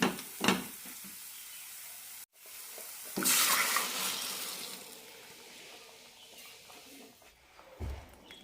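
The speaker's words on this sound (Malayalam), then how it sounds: "ഇനി ഇതിലേക്ക് കടല വേവിച്ചത് ഒഴിക്കാം" Cooked chickpeas go into a pan of garam masala for a chickpea curry. A sharp burst of sizzling starts partway through and then eases into a softer, continuing fry with stirring.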